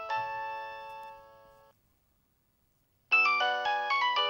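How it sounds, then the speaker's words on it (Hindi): A mobile phone ringtone for an incoming call from mom plays in two loud melodic bursts separated by a short silent gap, close and clear with no talking over it. "मम्मी का फोन है सनी"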